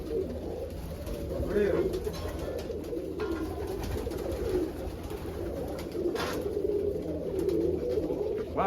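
Pigeons or doves cooing in low, steady murmurs throughout, mixed with a brief spoken word and outdoor ambience.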